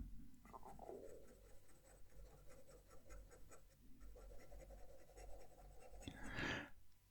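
A fountain pen writes across smooth uncoated Oxford Optic paper, a soft continuous scratching with short strokes and pauses, close and quiet.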